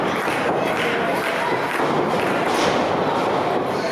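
A wrestling arena crowd at a St. Louis event reacts with a steady wash of disapproving noise and scattered shouts during a tag team match, loud and continuous throughout with no quiet moments.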